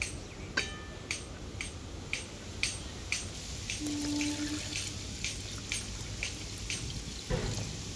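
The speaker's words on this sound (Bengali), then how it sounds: "তো এখন আমি দিয়ে দেবো পরিমাণ মতো জল এর মধ্যে।" Water is poured into a spiced yogurt curry base in a pan for a cauliflower and paneer dish, giving a faint splash and trickle broken by regular small clicks and knocks, with no talking.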